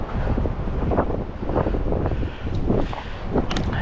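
High wind buffets the microphone beside a pond while fly fishing, a steady rumbling roar with gusty surges and no voices.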